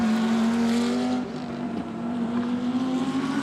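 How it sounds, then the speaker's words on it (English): A Lamborghini GT race car passes at Suzuka during qualifying, its engine holding a steady high drone before a brief dip as it goes by, then running on at a distance. "Mineki Okura's Lamborghini goes through"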